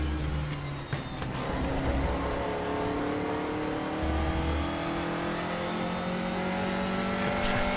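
A Formula 4 race car driven in RaceRoom online multiplayer, its engine droning steadily and loudly throughout, the pitch rising and falling with throttle and gear changes, heard alone without talk.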